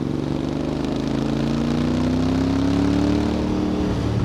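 Voge 625DSX motorcycle fitted with a Scorpion exhaust, riding in third gear at about 25 mph: a steady, loud engine drone with a slowly rising pitch, heavy low rumble and wind noise, no talking.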